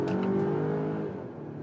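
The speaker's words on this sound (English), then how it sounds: "And you also hear the combustion engine then." Combustion engine of a large hybrid SUV revving hard during an acceleration run in power mode, a strong rising engine note close by that eases off after about a second.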